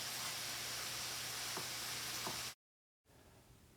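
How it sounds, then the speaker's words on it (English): Onions and shallots cook down together in a pan over lowered heat, a quiet, even sizzle with a couple of faint stirring clicks before it cuts to near silence. "let these onions and shallots cook together for a little bit"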